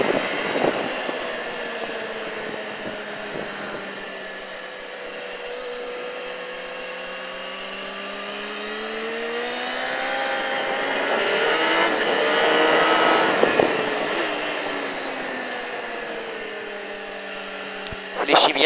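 Racing motorcycle accelerating on a track at Alès, a rising and falling engine whine that swells louder midway and then fades, with an instructor speaking French over it.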